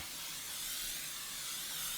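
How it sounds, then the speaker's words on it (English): A continuous hiss of aerosol cooking spray, steady and fairly close, lasting about two seconds with no speech. "spraying it with cooking spray"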